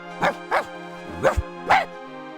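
Dog barking in the video game Simon the Sorcerer, four clear, separate woofs spaced evenly over a couple of seconds, close and fairly loud, with a low electronic hum beneath.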